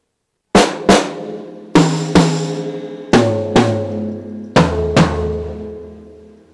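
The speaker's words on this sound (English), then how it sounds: "The first drum fill we're going to be doing is a simple quarter note drum fill across three toms, a snare, and a kick drum." Seven drum hits in an even quarter-note pattern move down across three toms, a snare and a kick drum. Each strike rings out loud and close, and the pitch drops from hit to hit with no talking.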